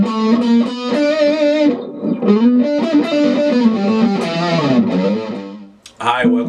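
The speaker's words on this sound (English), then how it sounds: "I've got distortion on because that's the way it sounds." An electric guitar with heavy distortion plays a riff, loud sustained notes ringing close up, with a short pause before a final chord.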